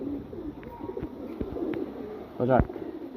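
Pigeons coo in a low, throaty rhythm close by, with a louder burst near the end, mixed with faint handling noise and a voice.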